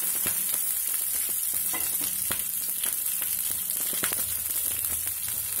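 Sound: cauliflower pieces frying in oil for gobi manchurian

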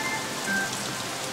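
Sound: rain falling

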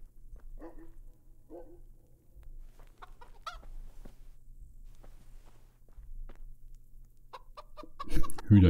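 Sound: chickens clucking in the video game Kingdom Come Deliverance

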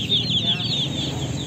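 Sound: chicks peeping

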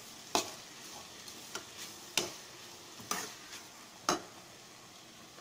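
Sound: cabbage sautéing in a pan

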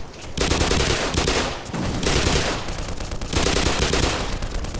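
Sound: armored gun firing in video game Black Mesa

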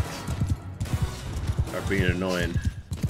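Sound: horse hooves galloping in video game Mount and Blade Bannerlord

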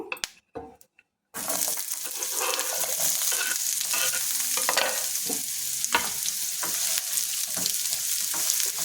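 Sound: onions frying in oil

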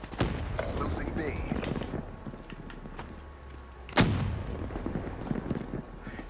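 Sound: grenades exploding in Call of Duty Black Ops III video game

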